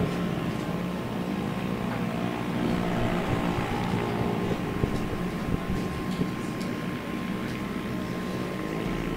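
Yamaha motorcycle running on the Tarlac race circuit, its engine a continuous loud broadband roar with a steady drone through the whole stretch, no clear pass-by swell.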